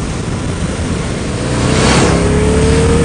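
A Harley-Davidson V-Rod motorcycle engine roars steadily at close range, its revs climbing and swelling louder partway through with a rising whine.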